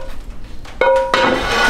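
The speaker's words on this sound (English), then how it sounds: "I'm just gonna pop my pan on the stove." A metal frying pan set down onto a stovetop while cooking sweetcorn fritters, giving a sharp clank with a ringing metallic tone, followed by a second clatter and lingering ring close by.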